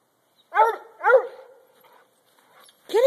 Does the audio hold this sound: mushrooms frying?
no